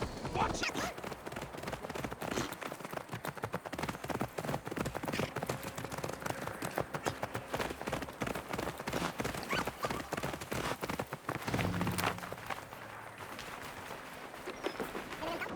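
Horse hooves clip-clop steadily in the Viking-era game Assassin's Creed Valhalla, a brisk, even rhythm of clear close strikes running throughout, with game voices and ambience beneath and a brief whinny-like tone late on.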